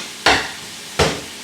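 Spaghetti sauce with peppers cooking down in a pan, heard as two short, separate bursts of stirring and scraping with a soft sizzle, close by and with no talking.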